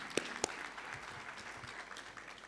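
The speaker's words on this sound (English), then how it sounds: "Let's clap for that also." Applause from the audience at a university graduation ceremony: a steady patter of many hands clapping, fairly faint and distant, with two sharper claps standing out near the start and the clapping continuing evenly throughout.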